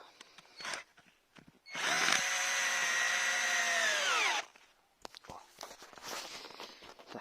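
Metabo PowerMaxx 12 cordless drill (10.8V) driving a screw, a loud steady motor whine lasting about three seconds that drops in pitch as it slows, with handling clicks and knocks before and after.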